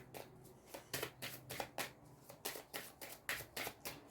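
Tarot cards are shuffled for a reading, making a series of crisp, rhythmic riffling bursts of paper on paper, close and clear, with no talk over them.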